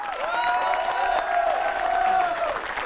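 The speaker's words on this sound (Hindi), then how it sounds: "ये हल्का फुल्का कवि नहीं है, जोरदार ताली बजाइएगा।" Audience applause for a comic poet at a televised Holi humour poetry gathering, steady dense clapping filling the whole stretch, with a sustained tonal line and some voice or music running through it.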